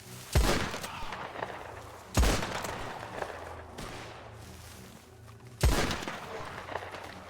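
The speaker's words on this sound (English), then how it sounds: "You hear the echoes of the gunshots?" Gunshots ring out in RedM, the Wild West roleplay game, three loud sharp blasts spaced a couple of seconds apart, each trailing a long rolling echo that fades slowly between shots, with a softer thump in the middle.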